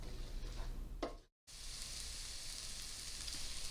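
Onions cook down in a pan with a steady, soft sizzle, heard up close. A brief knock is followed by a short pause, and then the even frying hiss goes on with no talking.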